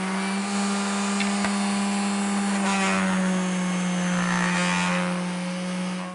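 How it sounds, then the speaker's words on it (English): An orbital sander with 180 grit paper works over the wood of a small cabinet, giving a continuous close humming drone with a steady scratchy hiss throughout. "And then I move to a orbital sander, and I start with 180 grit"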